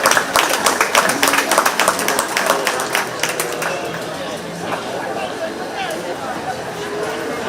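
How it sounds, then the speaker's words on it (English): Audience applause at a 4-H/FFA goat show at the Shelby County Fair, steady dense clapping that starts loud and gradually thins and fades, with chatter underneath. "Let's give both of those exhibitors a big round of applause."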